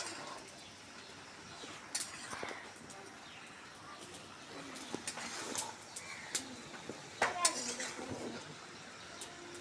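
Food is mixed in a cooking pot during a village-style beef curry with cham kochu, heard as irregular scraping and metallic clinks of a spoon against the pot, with occasional louder knocks, under soft background ambience.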